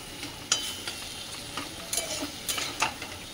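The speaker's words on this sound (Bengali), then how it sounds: "সবজিটা এই যে মশলার সাথে ভালো করে কষে নিচ্ছি" Vegetables frying with spices in a pan while being stirred, a steady close sizzle broken by several scraping stirs, no talking.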